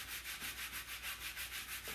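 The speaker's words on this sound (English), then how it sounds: "So we're going to take our hands and rub over the top." Hands rub steadily back and forth over glitter paper to burnish it, making a soft, even, rhythmic swishing of about eight strokes, close by and with no talking.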